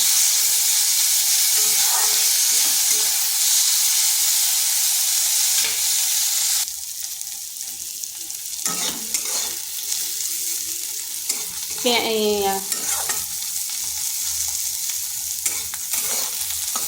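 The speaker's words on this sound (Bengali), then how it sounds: "প্রথমে করলাটা 3 থেকে 4 মিনিট একটু ভেজে নেব" Bitter gourd with slit green chillies frying in a pan, a loud steady hiss and sizzle of hot oil that drops quieter partway through, followed by a few scrapes and stirs.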